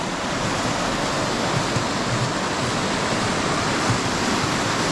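A mountain river rushes at a trail crossing in winter, a loud, steady broadband roar of flowing water filling the scene without break.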